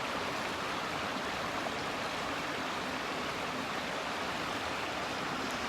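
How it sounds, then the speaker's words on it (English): A river and large waterfall in Glen Feshie, Scottish Highlands, pour as a steady, dense broadband rush of flowing water, continuous and unbroken throughout with no voices. "There's the river and camping next to this big waterfall up there"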